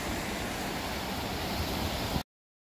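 Steady bubbling and hissing water at Yellowstone on a foggy morning: a dense, even wash of churning noise that fills the whole clip without pause, close and continuous, with no voices.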